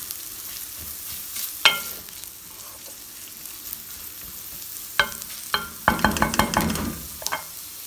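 Onions fry over a medium flame until light golden, a soft steady sizzle with sharp spoon scrapes and knocks against the pan, a cluster of quick clatters near the end, and no talking.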